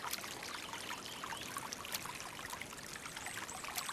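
Small creek after runoff repair, water flowing and trickling in a steady, soft, continuous hiss with faint bubbling detail, alone and fairly quiet.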